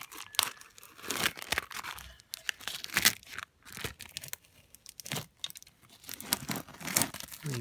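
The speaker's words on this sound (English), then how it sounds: "Sometimes the tape sticks into the edge of the tiles, but it doesn't matter, it's all nice and set so the tape won't rip a tile off" Tape is peeled off set mosaic tiles made from pottery shards, giving close, irregular tearing and crinkling rips in bursts with brief pauses between pulls.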